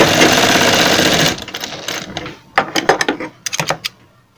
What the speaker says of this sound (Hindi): इस प्रकार से यहाँ पर अपने सिलाई लगा लेंगे